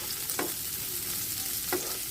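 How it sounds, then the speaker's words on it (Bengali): Chopped carrots lightly frying in a pan for vegetable fried rice: a steady, close sizzle with two brief spatula scrapes, and no voices. "সেটাকে হালকা ভেজে নেব"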